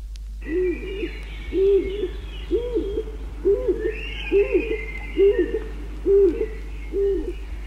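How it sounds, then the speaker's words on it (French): Stock dove cooing: a steady series of about eight low, hollow coos in an even rhythm, close and clear over a constant low hum. "Guedalia Tazartes, ces bruits de pigeons, c'est pour vous faire plaisir."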